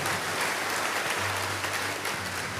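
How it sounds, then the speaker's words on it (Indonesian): A church congregation at a prophetic worship gathering claps loudly for Jesus Christ. Thick, continuous applause fills the space without pause, and a low steady tone hums beneath it. "Come on, give a clap for Jesus Christ."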